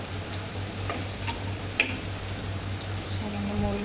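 Onions sizzling in hot oil in a home kitchen pan, a steady low frying hiss with faint ticks and a few scattered pops across the whole stretch.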